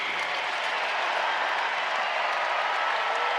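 A basketball arena crowd applauds and cheers a three-pointer at a college game, North Carolina versus USC Upstate, producing a dense, loud, continuous wash of clapping and roar with no pauses.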